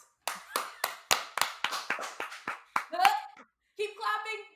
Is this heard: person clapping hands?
yes